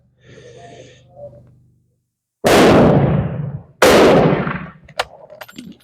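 Two loud, close rifle shots a little over a second apart, each with a booming decay, fired while fire forming .348 Winchester brass into 8x56R Kropatcheck cases, preceded by quiet handling noises and followed by faint clicks.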